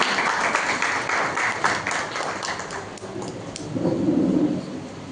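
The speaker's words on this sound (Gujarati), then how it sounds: "આપણે બધા તાળીઓથી એમને વધાવીએ." An audience at a Saraswati Sanman award ceremony for students claps steadily for an honoree, sustained applause that swells again near the end with a low murmur underneath.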